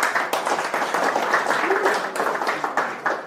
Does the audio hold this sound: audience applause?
yes